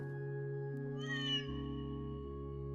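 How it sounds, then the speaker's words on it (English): A cat meows once inside a church in the video game Trails through Daybreak II, a bright drawn-out mew that rings with echo over steady background game music. "You can hear the cat's meow echo throughout the church."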